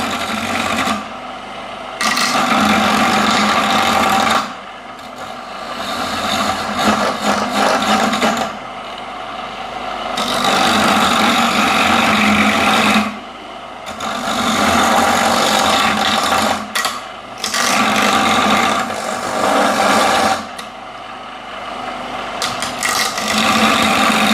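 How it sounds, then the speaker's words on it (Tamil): An electric mixer grinder whirs loudly in repeated bursts of a few seconds each, separated by short pauses, while making thothal, a harsh buzzing motor sound close by. "சத்தம் கேட்கு மிக்சியில் அடிக்கிறேன்"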